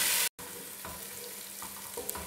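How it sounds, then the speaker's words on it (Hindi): Ginger garlic paste, about a tablespoon, fries in oil in a pan with a dense, even sizzle and light stirring scrapes, close and continuous. "अदरक लहसुन का पेस्ट जो है वो 1 टेबल स्पून एक दिया है और अब मैं इसको भून रही हूँ"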